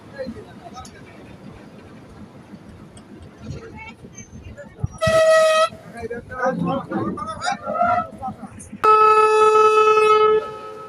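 A local train's horn sounds at a Bangladeshi station as it departs, two loud sustained blasts standing out over a busy platform din with voices talking nearby.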